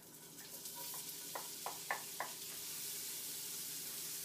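Onions dropped into hot ghee in a pan, giving a soft steady sizzle with a few brief louder crackles early on, then an even frying hiss, fairly quiet and close with no talking.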